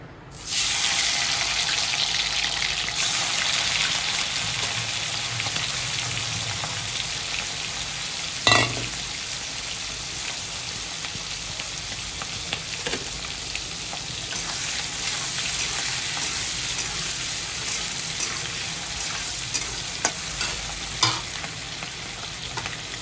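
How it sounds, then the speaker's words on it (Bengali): Prawns frying in a pan for chingri malai curry give a steady, close sizzle for the whole stretch, with an occasional sharp clink of a utensil against the pan. "এবার আমি চিংড়ি মাছগুলো দিয়ে দিচ্ছি, হালকা একটু ভেজে নেবো আমি একদম"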